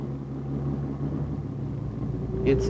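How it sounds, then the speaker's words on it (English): A 1961 Ford Zephyr with automatic transmission and torque converter pulls away smoothly, its engine giving a steady low rumble and hum that rises slightly near the end, with no abrupt gear shifts. "The car starts smoothly and behaves as if it had a whole range of low gears that automatically and smoothly change up."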